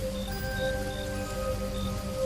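Steady rain falls on a street where a rickshaw has stopped with its chain off. The patter is even and continuous throughout, with no voices over it.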